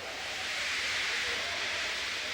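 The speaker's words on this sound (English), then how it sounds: "He just let off steam feebly." A steam engine weakly letting off steam, a soft, even hiss of escaping vapour held steady and fairly faint throughout.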